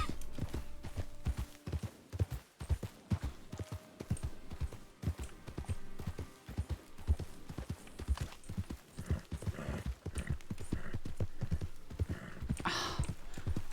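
Steady clip-clop of a horse's hooves on the ground in the Red Dead Redemption game world, a continuous close rhythmic trot with a brief whinny-like burst near the end.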